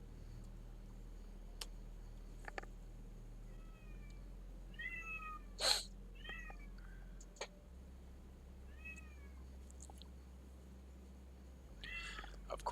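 A house cat meows several times indoors, short rising cries spaced across a quiet room over a steady low hum.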